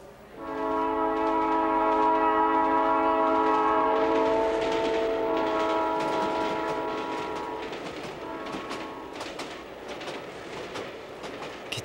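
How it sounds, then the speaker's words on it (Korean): A train rolls along rails, opening with a long sustained horn blast over steady rumbling, then a rhythmic clickety-clack of wheels that gradually fades as it passes. "기차는 레일 위에서 움직인다."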